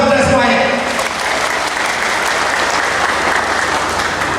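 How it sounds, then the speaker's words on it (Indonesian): An audience at an Indonesian political gathering breaks into dense, sustained applause, loud and steady throughout with no clear pauses. "Tepuk tangan buat kita semuanya."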